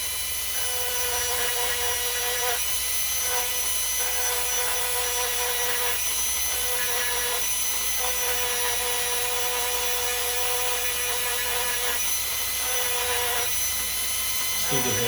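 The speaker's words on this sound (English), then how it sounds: "I might need to hit it with the old Dremel tool" Dremel rotary tool grinding down rough patches on a handmade coin ring, a steady close-up whine that runs throughout, with its pitch and pressure shifting every second or two as the bit works the metal.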